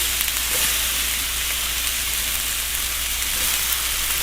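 Food frying in a hot cast iron pan, a steady hiss of sizzling that holds evenly throughout with no talking.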